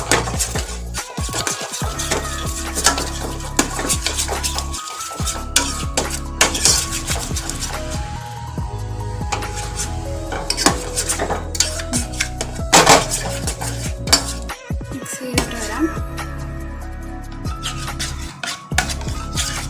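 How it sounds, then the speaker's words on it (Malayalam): Cheese being mixed into a sauce in a bowl for homemade loaded fries, with repeated clinking and scraping of a utensil against the bowl in an uneven rhythm, close and fairly loud. "ചീസ് ചേർത്ത് മിക്സ് ചെയ്ത് കൊടുക്കാം കേട്ടോ."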